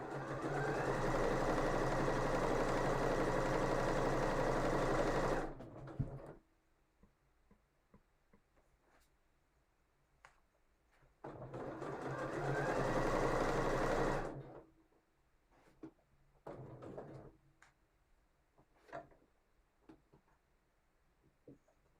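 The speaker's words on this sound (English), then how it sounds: "I'm just top stitching this second pocket." A sewing machine top stitching a second pocket runs in two steady bursts of about five and three seconds, loud and close, with quiet pauses and small handling clicks between them.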